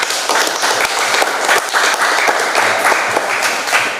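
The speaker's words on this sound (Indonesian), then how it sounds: "Tepuk tangan untuk Bu Rosita." A seminar audience at a waste bank event in a tourism village bursts into steady, dense applause for a waste bank organizer, loud and continuous throughout with no pause.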